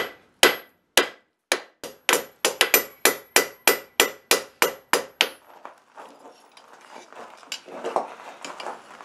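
About a dozen sharp hammer blows ring out on hot steel against an anvil, evenly paced and loud, then give way to quieter scraping and shuffling handling noises.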